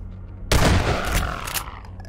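A single loud gunshot goes off in a Garry's Mod horror map, a sharp burst followed by a ringing, rumbling tail that fades slowly over about a second and a half.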